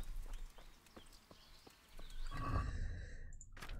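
A horse in the video game Medieval Times clip-clops with a series of evenly spaced hoof strikes, followed by a louder snort or whinny-like burst and a brief bright chime.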